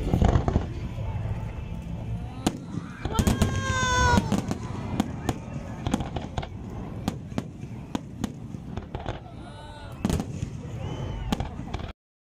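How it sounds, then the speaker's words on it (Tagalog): Fireworks pop and crack in a long irregular series at Khorfakkan, Sharjah, UAE, some bursts whistling as they rise, with people talking and cold outdoor ambience underneath. "Ito ng fireworks nila, guys."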